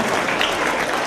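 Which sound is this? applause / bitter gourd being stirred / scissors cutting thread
applause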